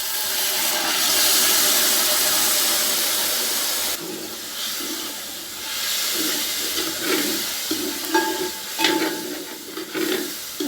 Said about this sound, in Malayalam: അപ്പോൾ ആ വെള്ളം ഇതിലേക്ക് ഒഴിക്കാം.